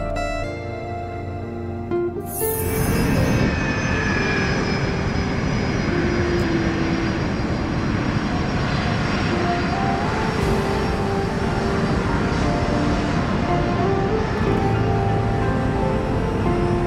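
Airplane engine as an aircraft taxis out: a loud, steady engine roar swells in after a couple of seconds and holds constant, with faint tonal whine layered over it.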